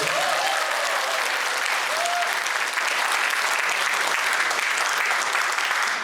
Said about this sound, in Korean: 정말 감사해서 박수 한번 보내주십니다